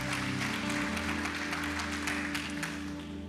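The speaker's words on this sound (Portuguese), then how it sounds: "Você pode dar um aplauso ao Senhor nessa noite, queridos?" A church congregation applauds during an evening worship service, clapping spread over sustained music tones and organ-like drones, moderately loud and continuous.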